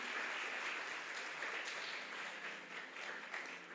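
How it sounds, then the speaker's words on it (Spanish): A church audience applauds its teachers, a steady wash of many hands clapping at moderate distance throughout, fairly faint and continuous with no speech over it. "un aplauso a ellos"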